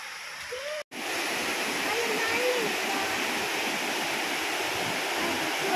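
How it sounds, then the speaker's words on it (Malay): A waterfall at a campsite in Kuantan, Pahang roars in a steady, dense wash of rushing water, loud and close, continuing without break. "Kita dah nampak air terjun dia."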